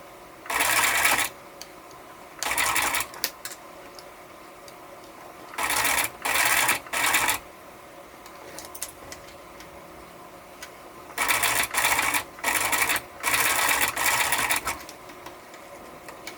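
Sewing machine stitching a fabric ghost pillow, its motor buzzing in several close, even bursts of one to two seconds separated by quiet pauses.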